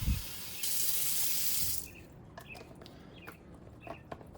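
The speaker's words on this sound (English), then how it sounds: "let's fill this water bottle up with water." Water runs from a tap into a water bottle in a steady hiss for under two seconds, then stops, leaving faint bird chirps in the background.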